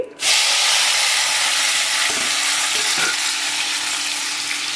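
Onions, tomato and curry leaves fry in hot oil after mustard seeds have popped, for an aubergine curry, giving a loud, steady close sizzle with a few soft stirring knocks and no talk.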